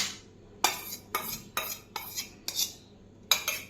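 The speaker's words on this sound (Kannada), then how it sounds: "ಒಂದು ಬೌಲ್ಗೆ ನಾನಿಲ್ಲಿ ಮೊಸರು ಹಾಕ್ಕೊತಾ ಇದ್ದೀನಿ" Metal spoon repeatedly scooping thick yogurt (curd) into a bowl while a salad is made, about seven soft clinks and scrapes at an uneven pace, close and quiet, with no voices.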